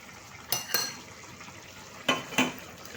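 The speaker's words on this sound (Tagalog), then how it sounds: "Tapos, haluin natin. Mix." A spoon scrapes and clinks against a pot while stirring banana heart simmering in coconut milk, four distinct knocks in two pairs over a quiet bubbling background.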